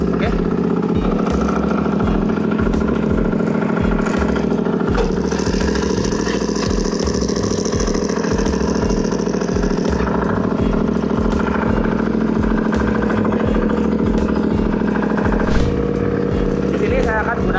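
A crawler tractor FCT25 engine runs steadily nearby at a constant throbbing idle, loud and unbroken throughout, with a faint higher whine in the middle.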